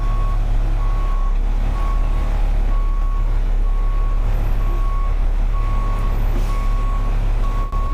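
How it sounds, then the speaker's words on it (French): A truck towing a trailer reverses with a steady beeping alarm sounding about twice a second over a deep idling engine rumble, loud and close throughout. "C'est comme ça qu'on fait quand on recule."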